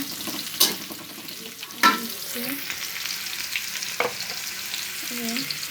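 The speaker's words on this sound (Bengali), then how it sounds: "আলু সিদ্ধ করে নিয়ে এটা ভাজতেছি" Boiled potatoes fry in a pan at low volume, a soft continuous sizzle broken by a few sharp scrapes and knocks of stirring.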